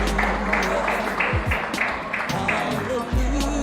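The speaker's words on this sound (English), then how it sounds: "So give yourself once again a round of applause." Scattered outdoor applause from attendees at a community center opening and lunch, clapping under a lively mix of voices and background chatter, moderately loud throughout.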